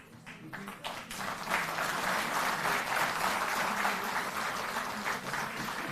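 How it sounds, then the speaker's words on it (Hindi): A crowd at a Delhi public event marking the regularisation of 700 Delhi Jal Board workers breaks into sustained applause, a dense, even roar of clapping that swells after the first second and holds steady. "जोरदार ताली बजती रहे।"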